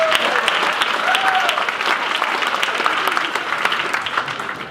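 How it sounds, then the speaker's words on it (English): An audience gives dense, sustained applause in a school auditorium during a talent show. The clapping is loud and even at first, then eases slightly toward the end. "so everybody give her a big round of applause."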